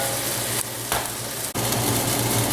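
Pieces of chicken for an Italian chicken stew sizzle steadily in a large pan, a loud continuous frying hiss with brief dips and a sharp knock partway through, no voices.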